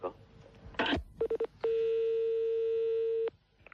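Telephone keypad tones as a number is dialed: a burst of noise, a quick run of short beeps, then one long steady tone lasting over a second, loud and close, with no talk over it.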